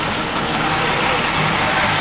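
Road traffic near the Indianapolis Motor Speedway the day before the Indy 500 makes a broad, steady rumble of passing vehicles close by, with voices talking over it.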